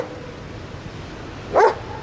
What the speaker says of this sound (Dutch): Hij is een beetje blafferig de laatste tijd.